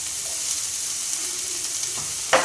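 Thinly sliced shallots and grated coconut with ginger sauté in a pan for a soya pepper fry, giving a steady close sizzle and stirring scrape throughout, with a brief louder clatter near the end.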